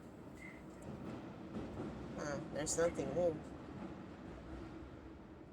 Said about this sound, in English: Why is the train still going?